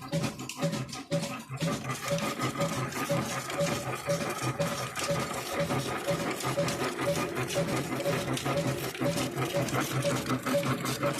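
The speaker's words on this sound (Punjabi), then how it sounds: "ਇਹਨਾਂ ਨੇ ਇੱਕ ਛੋਟੀ ਜੀ ਮਸ਼ੀਨ ਲਗਾਈ ਦੀ ਹੈ ਜਿਹੜੀ ਖਲ ਵੀ ਬਣਾ ਰਹੀ ਹੈ ਔਰ ਤੇਲ ਵੀ ਕੱਢ ਰਹੀ ਹੈ" A small oil expeller machine presses seeds into oil and oil cake, driven by an old black diesel engine, giving a steady rapid mechanical clatter with a regular thumping rhythm that runs continuously, with faint voices in the background.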